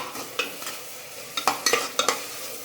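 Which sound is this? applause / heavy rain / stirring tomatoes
stirring tomatoes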